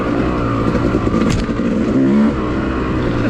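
A dirt bike engine lugs at low revs on a wooded off-road trail, a loud, steady close-up rumble with no break for the whole stretch and no talking over it.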